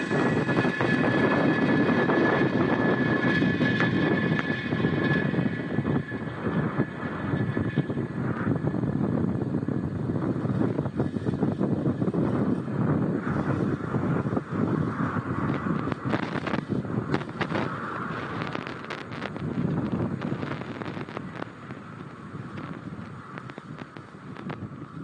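SpaceX Falcon 9 rocket lifting off on the Space Development Agency Tranche 0 mission, a broad, distant rumbling roar that slowly fades as it climbs, with wind buffeting the microphone.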